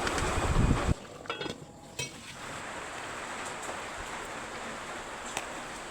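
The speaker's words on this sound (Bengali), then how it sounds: "ঢাকনা খুলে নেড়ে দিচ্ছি যাতে তলানিতে লেগে না যায়।" Mutton korma stirred in a pot after the lid comes off, a brief clatter of lid and spoon followed by a soft steady sizzle with occasional faint scraping, no talking.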